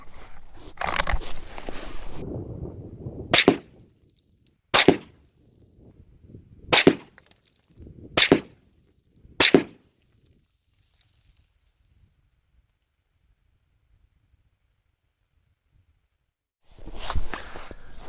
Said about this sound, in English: So shoot another 5-shot group, go for the top left target.